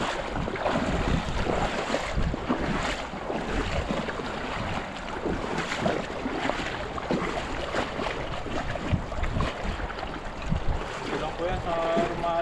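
Rushing river water full of fish pours past in a loud, continuous broadband roar, buffeted by wind noise, with faint voices in the background.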